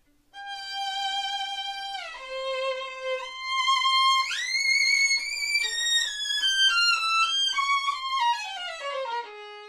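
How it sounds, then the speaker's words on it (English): A violin plays a bright, high melodic phrase alone, notes sliding and shifting in pitch, clear and close with no talking. "that's a violin and has short strings or length L"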